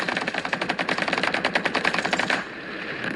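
Rapid machine-gun fire from a tank video game rattles in a steady, loud burst for over two seconds, then cuts off and leaves a low engine hum beneath.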